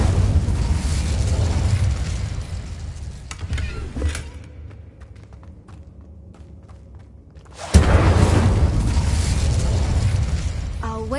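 Incendio fire spell cast in the Hogwarts Legacy video game, a loud roaring burst of flame that rumbles for a few seconds, drops to a quiet lull, then erupts again with a sharp, sustained blast.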